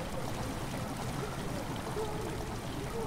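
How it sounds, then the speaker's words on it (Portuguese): Water slowly fills a sewer chamber in Amnesia: The Dark Descent, a steady trickling, streaming wash that holds at an even level throughout the short stretch, with no clear talk over it. "A água começou a encher a câmera lentamente."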